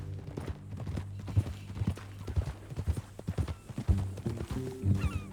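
Horse hooves clip-clop at a walking pace in the video game Red Dead Redemption 2, fairly close, with scattered irregular steps and a brief whinny near the end.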